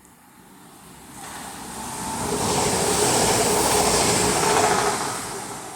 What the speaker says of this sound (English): another Transport for Wales Class 197 running from Manchester Piccadilly to Cardiff